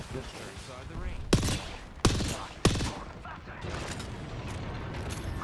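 Video game gunfire from a shooter match: three sharp, loud bursts roughly half a second apart, heard over continuous background game noise and a talking player.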